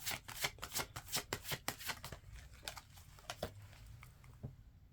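Tarot cards shuffled by hand in a burst of quick, crisp snaps, then slowing to a few scattered flicks as cards are pulled from the deck, close and fairly loud with no voices.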